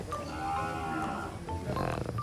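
Cattle at a livestock market in Nan province, Thailand, let out a drawn-out, resonant moo followed by a second, rougher call amid background market bustle.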